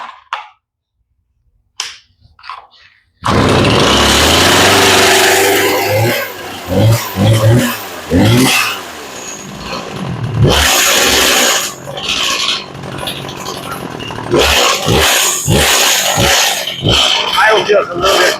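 A Stihl chainsaw with the choke fully on is pulled, then fires after a few seconds of near silence and runs roughly, sputtering and revving unevenly with loud, close bursts and dips.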